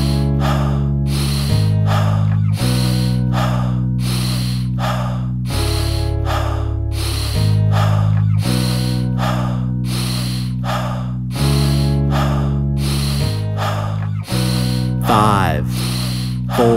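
Alkaline breathing in a breathwork session: quick, forceful breaths in a regular rhythmic series, loud and close, over a sustained musical backing.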